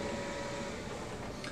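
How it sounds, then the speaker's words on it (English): A Brother MFC 9970 laser printer initializes with a steady mechanical whir and hum held at an even level, with a faint higher rattle near the end. "we'll give it a second for the printer to initialize"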